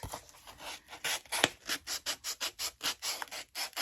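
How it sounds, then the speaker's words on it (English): Rhythmic back-and-forth hand sanding along the edge of a Dollar Tree sign to bevel it, a close, steady series of raspy strokes with a brief sharp knock partway through. "I am going to sand it so that it's a little beveled."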